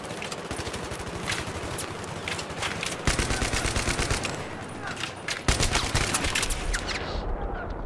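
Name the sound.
gunfire in the video game Battlefield 3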